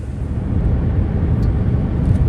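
Steady low road rumble and engine drone of a car driving along a two-lane country road, heard continuously from inside the vehicle with no voices.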